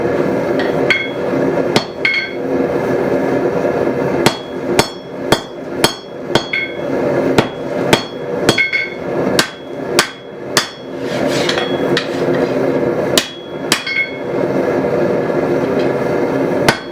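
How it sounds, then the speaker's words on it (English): Hammer blows on a heated Damascus steel billet being forged into Santoku kitchen blades, loud ringing metallic strikes in irregular bursts over a constant roar from the forge. "it's time to start forging on these kitchen Santoku style blades"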